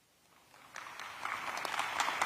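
Live audience at Edward Waters University in Jacksonville, Florida breaks into scattered clapping that builds from faint to moderately loud over a couple of seconds.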